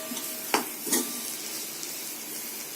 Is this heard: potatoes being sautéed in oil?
yes